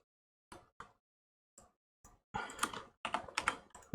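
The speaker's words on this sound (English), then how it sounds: "Oops, typing the wrong numbers." Typing on a computer keyboard during a live Sudoku solve: scattered single key clicks at first, then a quicker burst of clustered keystrokes, close and fairly quiet.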